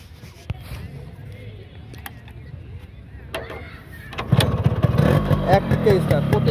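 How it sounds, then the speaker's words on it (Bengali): A modified Yamaha RX 100 motorcycle with a freshly rebuilt engine is kick-started after a few quiet knocks, then catches and runs with a loud, close, throbbing idle while people talk nearby. "গাড়িটা একটু স্টার্ট দিয়ে দেখাই।"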